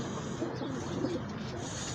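Pigeons about seven months old cooing softly amid steady low background noise, a low murmuring coo repeating faintly with no talk.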